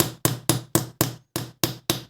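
A hammer strikes metal, apparently used in place of an anvil while adjusting the lower knife mount of a Gemsy FN-2 overlock; eight sharp, evenly spaced blows ring out close and loud, each decaying quickly, with no talk.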